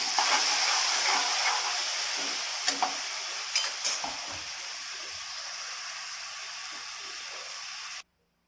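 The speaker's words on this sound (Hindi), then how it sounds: "मैंने इसमें डाल रही हूँ अजवाइन, डाल दिया हींग, और ये है प्याज लहसुन का पेस्ट।" Carom seeds, asafoetida and onion-garlic paste fry in hot oil in a pan, giving a loud, steady sizzle with a few brief clinks of a spoon stirring, before cutting off abruptly.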